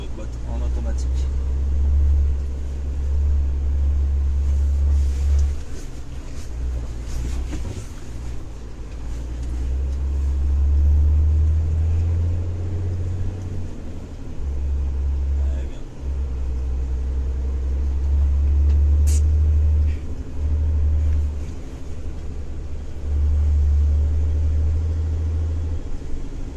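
A Renault Kerax 500 truck engine idles and rumbles steadily with no accelerator, its low drone rising and falling in level, heard close throughout.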